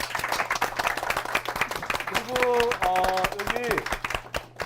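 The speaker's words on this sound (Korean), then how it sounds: "오늘 수고하신 그 두 분의 MC 박수 부탁드리겠습니다" A small audience at a book forum author talk claps for the two hosts, a scattered rhythm of hand claps running under a voice speaking through the middle.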